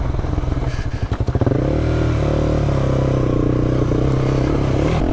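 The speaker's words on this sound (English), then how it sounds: "I just came skidding around that corner" A motorcycle skids around a corner on a loose, overgrown road, with gravelly scraping and clatter before the engine settles into a loud, steady drone close by.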